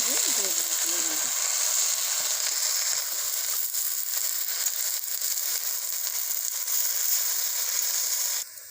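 Fenugreek greens sizzle in hot oil with chopped eggplant, chili and garlic, a steady, loud hiss that runs unbroken to the end, with a short muffled thump near the start.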